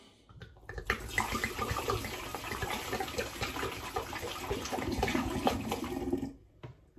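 Apple and hops wine is poured into a demijohn, a steady gurgling splashing stream running for about six seconds, fairly close and unbroken, then stopping abruptly.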